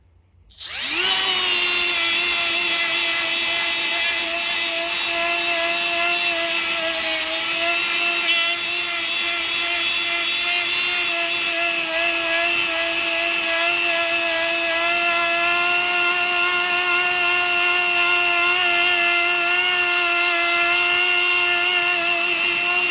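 A Milwaukee die grinder spins up and grinds steadily into a metal plate, a loud, sustained high-pitched whine with layered harmonics that holds nearly constant for over twenty seconds, close and alone with no talking.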